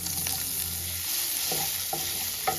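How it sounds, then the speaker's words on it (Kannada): Paneer cubes dropped one by one into hot oil for paneer butter masala, a steady close sizzle and crackle with a few soft clinks of a spatula or pan. "ಸೊ ಎಣ್ಣೆ ಕಾದಿದೆ. ಸೊ ಇದಕ್ಕೆ ಒಂದೊಂದೇ ಪನ್ನೀರ್ ಹಾಕ್ಕೊಂಡ್ಬಿಡೋಣ"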